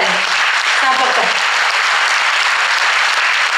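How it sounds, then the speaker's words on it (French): An audience applauds at the Miss Côte d'Or 2018 pageant, loud dense clapping sustained throughout, with a voice briefly audible over it at the start. "Donc j'ai envie de vous applaudir."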